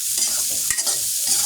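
Onions sizzling in hot oil in a pan while being stirred, for a fish-head and taro curry, a bright, steady crackling frying noise with scraping stir strokes, close and alone.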